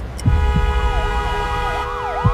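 An ambulance siren wails through traffic, its rising and falling tone sweeping steadily and loudly over a low rumble of engines, with a couple of brief thumps standing out.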